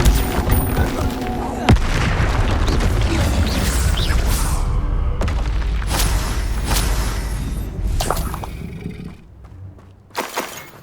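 Confringo blasting spells explode in the Hogwarts Legacy game, a series of booming blasts and crackling bursts in quick succession, some sharp and loud, fading to quieter hits near the end.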